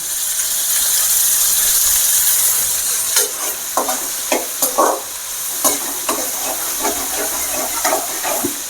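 Onion and capsicum sauté in a pan for masala egg podimas, with soft sizzling hiss under repeated stirring scrapes, no voices.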